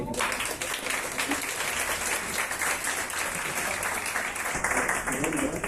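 Audience at a Spanish-language academic education event breaking into strong, dense applause that fills the room steadily from start to finish, with faint voices mixed in.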